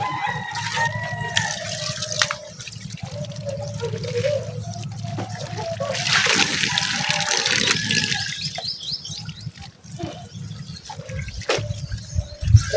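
Strong running water gushes and splashes steadily during clothes washing, with a rooster crowing repeatedly nearby and a person talking over it.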